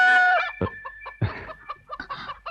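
Chickens kept by the downstairs neighbours cluck in short, uneven bursts after a drawn-out call at the start, fairly close and clear against a quiet background.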